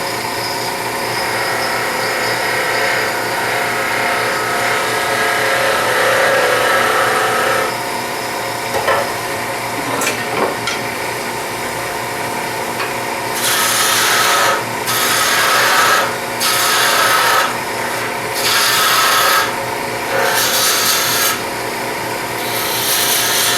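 A spindle roughing gouge cuts plywood spinning on a lathe, a steady loud scraping hum with bursts of choppy, rasping cuts in the latter half of the clip.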